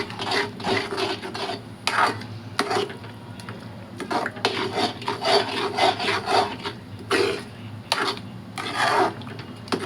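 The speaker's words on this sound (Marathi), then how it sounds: "आता हलवून घ्यायचं बारीक गॅस करून." A spoon scrapes and stirs thick pithla, a gram flour curry, in a pan over low heat, in repeated rhythmic rasping strokes up close with a low background hum.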